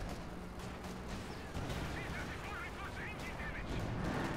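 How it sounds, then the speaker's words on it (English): Artillery fire on a crossroads battlefield in Company of Heroes 2, a dense, continuous roar of distant shelling and gunfire that stays loud throughout, with a voice speaking over it. "at least Basset's got some artillery to soften up his opponent"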